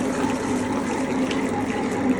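Water drains out of an opened smart wet grinder, a steady, moderately loud gushing and pouring that holds evenly for about two seconds with no voices.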